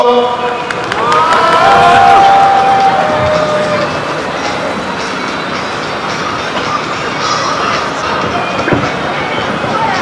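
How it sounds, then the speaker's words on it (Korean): Outdoor crowd at a Korean candlelight protest rally in Incheon claps and cheers for a speaker, a steady loud wash of applause with murmuring voices throughout. "발언해주신 이성재 상임대표님께 큰 박수 부탁드리겠습니다"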